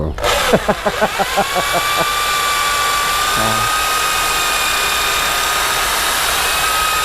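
A power drill boring through material, starting with a burst of rapid pulsing bites before settling into a loud, steady whine that holds for several seconds, with a short low thud partway through.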